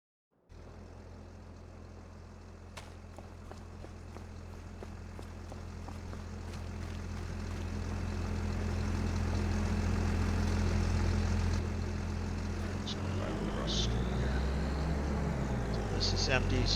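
A Farming Simulator 25 tractor harvester engine drones steadily as the machine drives, its low rumble slowly swelling louder before easing off, with a few faint clicks and knocks on top.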